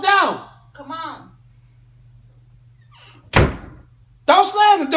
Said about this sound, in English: Don't slam the door in my house.